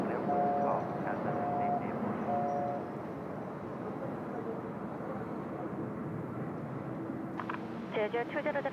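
An airliner departs Seoul Incheon Airport from runway 16 Left, its broad jet roar steady and loud throughout. A voice talks over it early on, and the engine note fades slightly midway.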